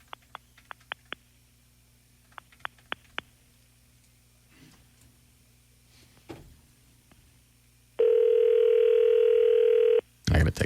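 A telephone after a failed call: a rapid series of sharp dialing clicks, quiet pauses and soft handling noise, then a loud, steady dial-type tone lasting about two seconds, with a brief loud burst at the end.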